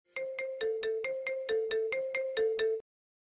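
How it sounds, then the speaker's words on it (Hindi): A phone ringtone plays a quick, bright repeating melody of short electronic notes for a few seconds, then cuts off into silence. "आदि, फोन उठाइए।"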